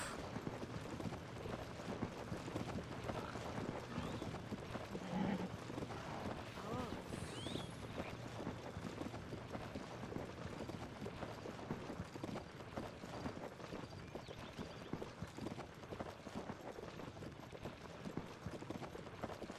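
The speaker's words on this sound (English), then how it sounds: "I've never done this before with a horse that doesn't follow directions." Horse hooves clip-clop in Zelda: Tears of the Kingdom as a quiet, steady run of rhythmic hoofbeats over a faint game background, with a voice speaking over it.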